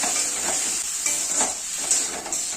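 Masala with a splash of water being stirred in a pan for a puti fish curry, a loud close sizzle with scraping spoon strokes that rise and fall, no talking.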